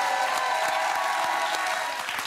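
Steady applause from a crowd, a dense continuous patter of clapping at moderate volume throughout.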